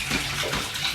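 Water pours steadily into a homestead building, a continuous close gushing wash with no breaks and no voices.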